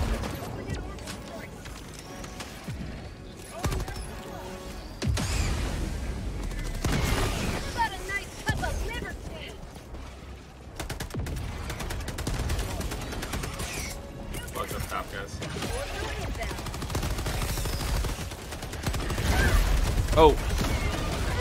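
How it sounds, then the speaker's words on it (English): Gunfire and explosions in the Helldivers 2 video game: bursts of rapid shots and heavy booms throughout a busy battle, mixed with players talking over the fighting. "explosion just killed me"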